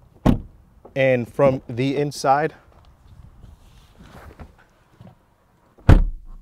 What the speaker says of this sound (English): Door open and close from the outside.